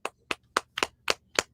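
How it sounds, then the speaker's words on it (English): Six sharp, evenly spaced hand claps in a quick steady rhythm, close and fairly loud, with quiet gaps between each clap and no talking. "Roaring round of applause."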